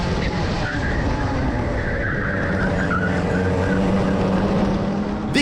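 A Club100 racing kart slides and loses its rear end during an overtake on a karting track, with a loud, continuous engine drone and scrubbing tyre noise held throughout.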